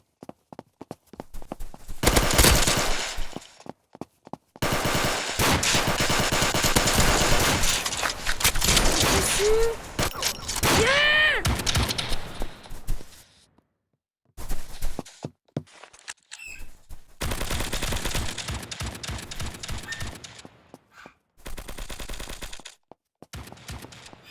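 Bursts of rapid gunfire and scattered shots in the shooter game Kuboom, loud and near, broken by short quiet gaps and a few brief electronic tones.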